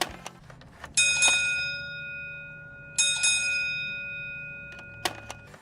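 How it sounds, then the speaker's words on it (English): Two quick bright bell dings from a 1970s gas station driveway signal bell, struck once near the start and again two seconds later, each ringing on with a long steady tone over a quiet background. "Number 2, the ding-ding at the gas station."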